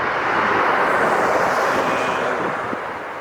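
Steady broadband jet roar from airliners at LAX, likely at takeoff thrust, holding loud and constant throughout with a slight fade near the end, alone without talk.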